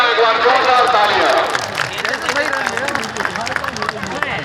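A loud crowd claps and cheers at an outdoor political rally, with dense applause that swells at first and then settles into steady clapping and babble, while voices carry over it.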